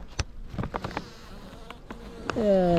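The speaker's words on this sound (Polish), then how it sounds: "Jest tu pszczoła." After a few clicks and taps, a honeybee's buzz rises close by near the end, a steady droning hum, at a beehive in an apiary beside dandelions, with wind.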